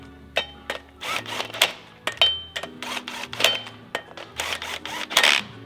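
Clutch bolts on a Subaru STI engine are tightened with a torque wrench, giving a series of sharp, close metallic clicks at an irregular pace over low background rumble.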